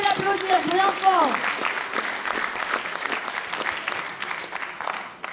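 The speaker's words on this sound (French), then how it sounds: "On peut l'applaudir bien fort." Audience applause at a French book award ceremony, a dense, steady clapping that swells and continues for several seconds, with a voice briefly heard over the start.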